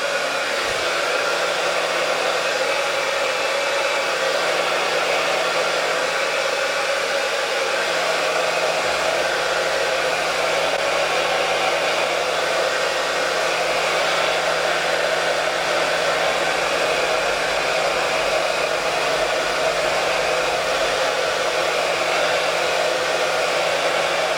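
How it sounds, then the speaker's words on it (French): A hair dryer on setting 3 blows steadily and loudly the whole time while drying wig glue, a constant airy whir with a faint low hum underneath. "je vais prendre mon sèche-cheveux, toujours en position 3."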